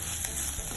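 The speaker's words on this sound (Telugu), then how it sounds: "ఎండుమిర్చి, దంచుకున్న జీలకర్ర, మిరియాలు, వెల్లుల్లి కొద్దిగా వేగనివ్వాలి." Dried red chilies, crushed cumin, pepper and garlic sizzle in hot oil while tempering for pineapple rasam, a brief, close, steady hiss of frying.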